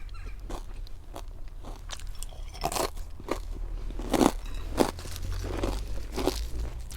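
Crispy fried chilies are bitten and chewed close up, making repeated sharp crunches and crackles at an uneven pace over a low background hum.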